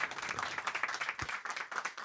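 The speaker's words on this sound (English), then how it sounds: "Let's give John a round of applause and welcome him back" Audience applause at a book talk for the author of Head Cases, a dense, steady patter of many hands clapping from a crowd throughout.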